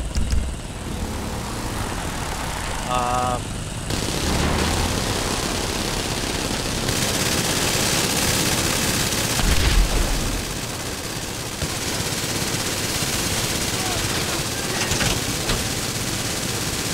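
Enemy gunfire in GTA 5 during a SecuroServ cleanup operation, a steady wash of loud automatic fire and aircraft-like drone running the whole time, with a short rattling burst early on and heavier thumps near the middle.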